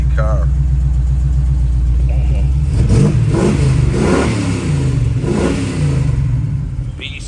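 A 1973 Chevrolet Camaro with a built 427 V8 idles with a deep lumpy rumble and then revs hard several times, loud and close, with the revs rising and falling in bursts before it settles back to idle.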